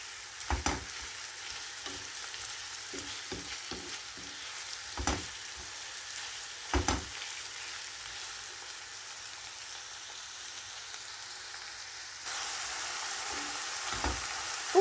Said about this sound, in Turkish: Eti de soğanla birlikte soteleyelim